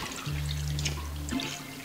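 Wet paper mache pulp being squeezed by hand, water splashing and dribbling out in a short, close burst under a low steady hum.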